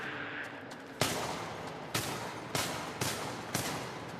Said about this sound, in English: Just angry shooting now.